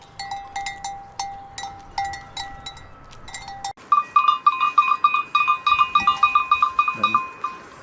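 Goats of the Candelon herd mill about with their bells clanking in quick irregular rhythm, and a few short bleats rise close by among the ringing.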